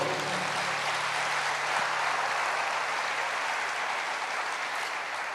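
A church congregation claps in praise, a steady, even roar of many hands heard from within the room, holding at a constant level throughout with no voices standing out.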